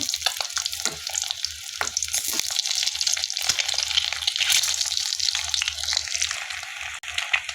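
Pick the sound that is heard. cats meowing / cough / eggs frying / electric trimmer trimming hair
eggs frying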